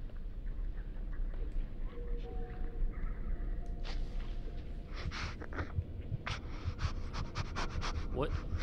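Creepy breathing sounds in the horror video game Among the Sleep, soft panting and sniffing mixed with scattered bumps and footsteps in a muffled, noisy space.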